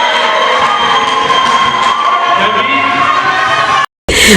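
Plenary assembly in Tanganyika cheering and applauding a minister as he is released, a dense steady crowd roar with broadband clapping throughout, cutting off briefly near the end.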